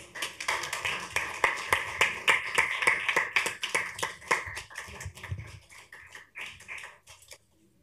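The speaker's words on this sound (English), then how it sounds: "So let's give her another round of applause." An audience at a county commissioners' meeting applauds, a steady patter of claps that thins out and stops after several seconds.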